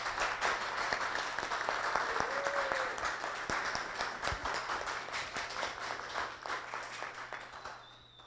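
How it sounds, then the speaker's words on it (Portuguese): Audience in a conference hall applauds steadily for about eight seconds, continuous mid-volume clapping from many hands that tapers slightly at the end, with no talking over it. "uma salva de palmas para ela"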